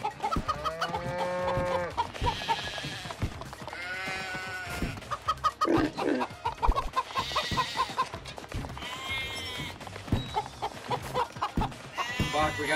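Video game chickens cluck and squawk repeatedly in a busy, overlapping chorus, with other bleating animal calls mixed in and no talking.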